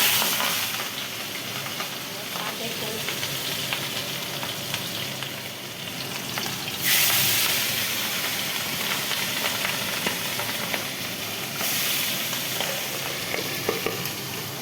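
Pabda fish frying in hot oil, a continuous loud crackle and hiss with sharper spitting bursts partway through, steady and close without talk.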